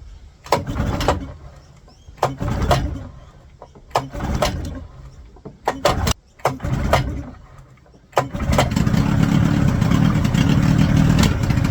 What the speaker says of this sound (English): at this stage, the motor was still running pretty rough